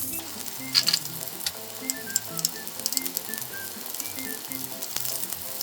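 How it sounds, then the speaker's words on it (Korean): Spam frying in oil in a frying pan, a soft steady sizzle with frequent crackles and pops, close and fairly quiet, with light scraping of a utensil. "기름을 좀 둘러주시고 이렇게 튀기듯이 해주는 게 좋아요"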